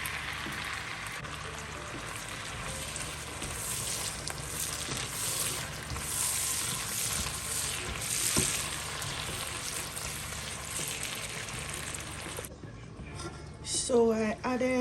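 Chopped vegetables and ground seasoning sizzling loudly in a hot pan, a steady dense frying hiss close by, cutting off near the end as a voice speaks over it.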